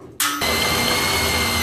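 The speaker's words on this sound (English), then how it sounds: "I'm gonna drill the same thing on the other side here" A power drill boring a half-inch hole in a car cowl panel on a 1968–74 Chevelle, GTO or LeMans, starting abruptly with a loud, steady whine that holds close and constant.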